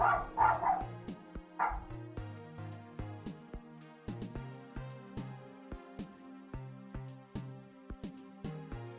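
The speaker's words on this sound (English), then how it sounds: "Yeah, you hear my dog, don't you?" A pet dog named Abby barks repeatedly indoors, with a couple of loud yaps early on followed by a long run of steady, moderately loud rhythmic barks continuing throughout.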